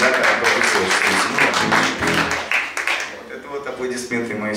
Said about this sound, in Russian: Аплодисменты моей супруги.